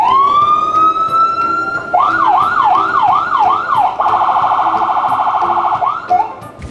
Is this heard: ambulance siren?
yes